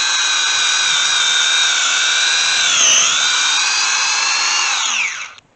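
A power drill bores a tap hole into a backyard maple tree, one steady loud whine held close for about five seconds with a brief dip in pitch under load before spinning down. No voices are heard.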